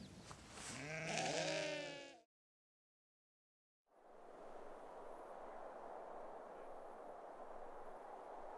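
Goats out in the rural countryside near Terelj National Park bleat in a loud, wavering call up close, then after a brief gap a steady outdoor hiss of wind and ambience continues.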